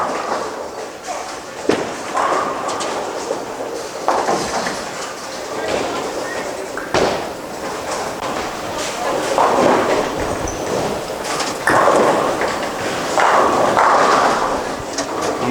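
At a bowling event on a 43 ft oil pattern, a ball rolls down the lane with a continuous rumbling roll, then sharp thuds and clattering pin hits over the hall's din and nearby speech.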